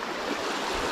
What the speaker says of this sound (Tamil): இந்த இடத்துல பாருங்கள் தண்ணி எப்படி போயிட்டுருக்குன்ட்டு